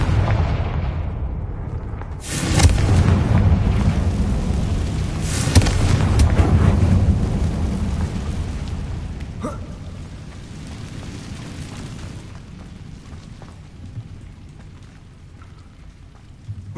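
A Confringo blasting spell in Hogwarts Legacy sets off a deep, rumbling explosion that lands suddenly and rolls on for several seconds before fading into low ambience.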